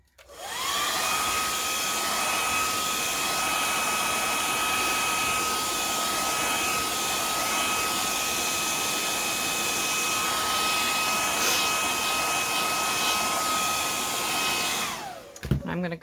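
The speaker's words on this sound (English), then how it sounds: "So I'm going to dry this real quick." A hair dryer blows steadily to dry a paint inlay on a dish, giving a continuous whirring roar with a whine. It is close and alone, switching on at the start and off near the end.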